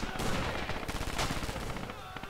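MG34 machine gun fire in a World War II shooter match, dense rapid bursts of automatic gunfire rattling continuously at close range with scattered other shots layered in.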